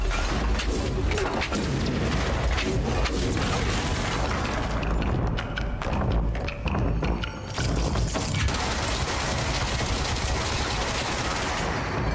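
Grenade explosions and gunfire in the video game Control, a dense, continuous barrage of loud booms and rapid shots with no pauses, with a voice faintly under the din.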